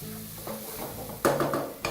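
Spices frying with red onions in oil in a pot, a soft sizzle joined by a few sharp stirring clanks and scrapes of a utensil against the pot, no speech.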